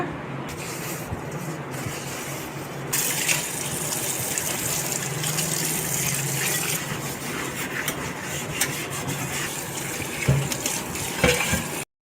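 A new iron dosa tawa, seasoned with salt and oil, being washed under a steady gush of running tap water that sprays and splashes across the pan close by, continuous for the whole stretch.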